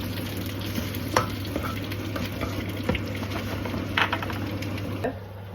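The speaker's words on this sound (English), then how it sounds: "grab whatever this is and stir and mix it all together" Sausage dish ingredients stirred and mixed in a frying pan, a steady sizzle with a low constant hum beneath and a few sharp scraping strokes of the spoon, close and moderately loud with no talking.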